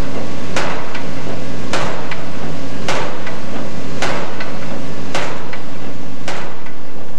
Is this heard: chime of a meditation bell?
no